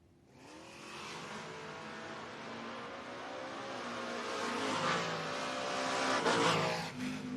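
Drag-racing Camaros, one a 1969-body car, rev and roar at the starting line, a loud rising engine blare that builds steadily and swells near the end.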